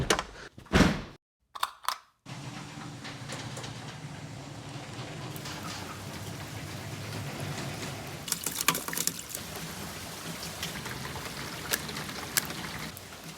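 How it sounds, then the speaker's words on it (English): A garage door rumbles open with a steady, continuous mechanical drone after a few sharp thumps at the start, running on at an even level. "gotta open the garage door"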